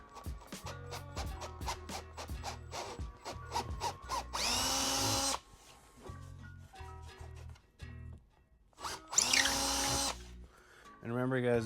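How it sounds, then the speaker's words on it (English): A power drill whines in two sustained bursts of several seconds each while drilling bamboo, separated by quieter clattering and handling sounds close to the microphone. "When you start your drill, you kind of want to go slow."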